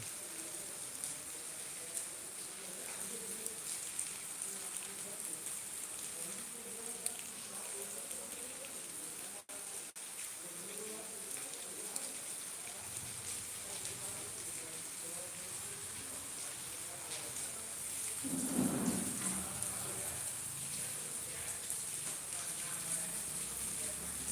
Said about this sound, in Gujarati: બહુ સારો એવો વરસાદ પડી રહ્યો છે